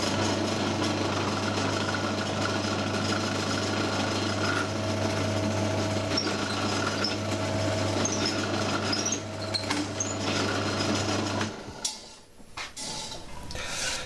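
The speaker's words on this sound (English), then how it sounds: "So I've just drilled through for the trigger notch here" A power drill bores a trigger notch through a wooden crossbow stock, giving a steady, loud motor drone that stops abruptly near the end, followed by a few handling knocks.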